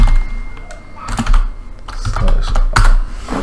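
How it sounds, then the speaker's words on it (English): Fingers type a command on a computer keyboard with a quick run of close clicky keystrokes, while a person talks over the typing. "going to command prompt and doing an"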